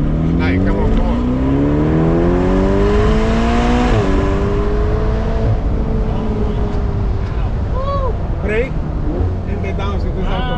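Ferrari Performante on an Italian road, its engine rising steadily in pitch through a long acceleration, then dropping at a gear change and climbing again, loud and close with people talking over it.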